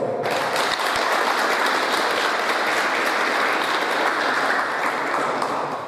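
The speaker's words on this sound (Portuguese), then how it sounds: "Vamos aplaudir o vereador Leosmar Stagel." An audience claps steadily for a city councilman at a community ceremony handing over a road patrol vehicle in Cavaco, the applause sustained and fairly loud throughout with no speech over it.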